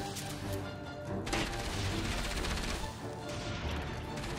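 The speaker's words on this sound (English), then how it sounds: "I can hear lots of gunfire" Gunfire from the video game Enslaved: Odyssey to the West crackles through a dense, noisy battle mix, with bursts and impacts layered over constant rumble. It plays fairly quietly and has no talk over it.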